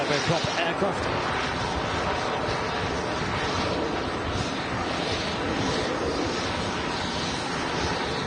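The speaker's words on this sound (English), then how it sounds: "Take a look at this PC-12 that's just arrived in as Brownie blurs the props for you guys." A Pilatus PC-12 turboprop at an airport produces a steady, broadband engine roar, loud and continuous throughout, with wind buffeting the microphone and a voice talking over it.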